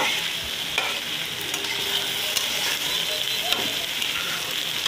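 Fried cauliflower and potatoes stirred in a pan with tomato, a steady hiss of frying with scraping spatula strokes throughout, close and continuous, no talk.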